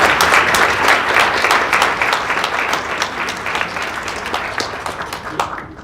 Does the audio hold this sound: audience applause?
yes